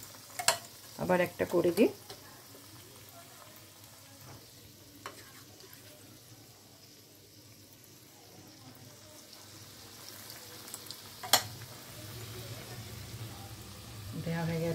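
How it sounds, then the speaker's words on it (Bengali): Aloo gobi chops frying in hot oil on lowered heat, a soft continuous sizzle with a few clattering bursts as pieces are added and turned, and someone speaking briefly. "এভাবে এপিট ওপিট করে ভাজবো"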